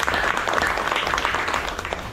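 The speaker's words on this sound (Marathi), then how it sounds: "जोरदार टाळ्या वाजून धन्यवाद देऊया." Hearty applause from a gathered local crowd at a tree-planting event, thanking the organisers: loud, continuous clapping close by with a faint murmur beneath.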